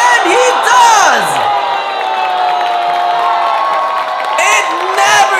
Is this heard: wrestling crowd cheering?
yes